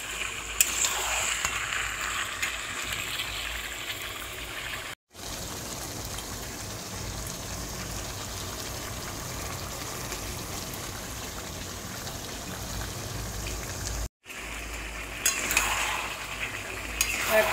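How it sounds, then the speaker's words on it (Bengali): Chicken curry pieces being sautéed in a pan, a steady oily sizzle and frying crackle with spatula scraping and stirring against the metal, close and continuous with two brief silent breaks. "একটু কষাচ্ছি,"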